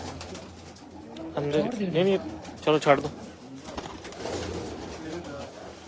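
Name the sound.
pigeons cooing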